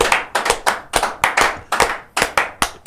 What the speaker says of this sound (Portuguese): Palmas aí pra Painho.